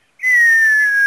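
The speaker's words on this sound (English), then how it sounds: "You're whistling." A person whistles a single sustained note into a microphone during a Minecraft multiplayer session, loud and close, the pitch sliding slightly downward for about a second after a brief silent start.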